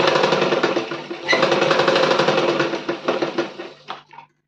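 A sewing machine runs a straight stitch on a small underwear piece, a loud, close, rapid mechanical chatter lasting several seconds with a brief pause partway through before it slows and stops.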